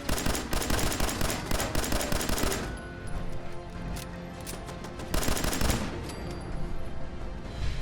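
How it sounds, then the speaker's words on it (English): Rapid automatic gunfire in Fallout 4, dense bursts of shots in quick rhythm, a lull of scattered single shots, then another loud burst. "Oh, I was shooting Ada in the back."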